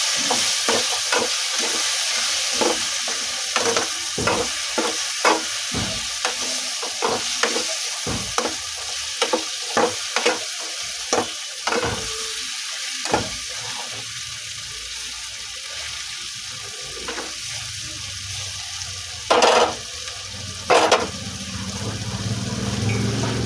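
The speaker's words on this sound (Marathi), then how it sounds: "तर चला हलवूया" Capsicum (shimla mirch) sabzi sizzling in a pan while a spatula stirs it, a steady loud frying hiss punctuated by repeated rhythmic scraping knocks, with a couple of sharper clanks near the end.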